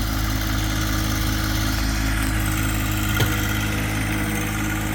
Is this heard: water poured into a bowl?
no